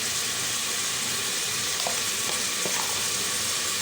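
Meat frying with garlic ginger paste for an arvi gosht (taro and meat) curry, a steady, dense hiss of sizzling oil with a few faint clicks and stirs, no voices.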